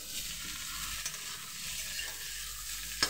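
Ridge gourd and potato pieces fry in a pan with a steady, fairly quiet sizzle and hiss that runs throughout, with a few faint stirring knocks.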